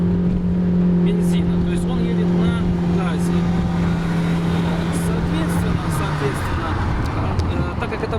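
Nissan Juke 1.6 engine from 2015 running on LPG through a Landi Renzo gas system, held at steady high revs around 5,500–6,000 rpm, a loud continuous drone with someone talking over it.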